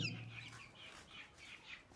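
A Brahma chicken with heavily feathered feet gives a short run of faint, rhythmic clucks, quiet and alone.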